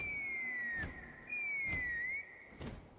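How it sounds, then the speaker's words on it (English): Whistle sounding in Genshin Impact, two sustained high tones, each gliding slightly downward, separated by soft thumps and a brief gap, heard alone without talk. "That sounded like a whistle."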